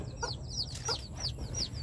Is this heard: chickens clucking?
yes